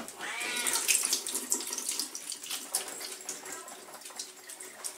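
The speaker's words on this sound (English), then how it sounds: "You strain all the juices out." Liquid juices pouring and trickling out of an air fryer basket through a strainer lid, a continuous close splashing stream with small bubbly spatters throughout.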